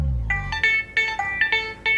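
A telephone ringtone in a Pakistani TV drama scene, sounding as a repeating electronic melody of short bright tones, loud and close, with no talk over it.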